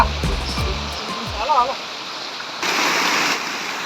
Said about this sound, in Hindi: आप लोग ये देख रहे हैं जूनागढ़ गिरनार का एक छोटा सा वाटरफॉल